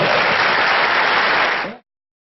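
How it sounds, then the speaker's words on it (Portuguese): Audience applause for a couple at a ceremony led by a master of ceremonies, a dense burst of clapping from many hands that holds steady and then cuts off abruptly after about two seconds. "uma salva de palmas para eles, por favor"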